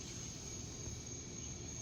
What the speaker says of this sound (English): You hear the cicadas in the background.